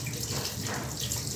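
Tap water runs steadily over fresh ginger being rinsed at a kitchen sink before cooking pork adobo, a continuous close splashing stream with no talking.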